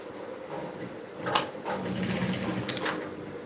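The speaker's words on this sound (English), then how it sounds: "also going to sew the neckline of the second piece of the back" A sewing machine runs steadily while stitching the neckline of a back piece of a garment, a close, even whir with a few brief clacks of handling partway through.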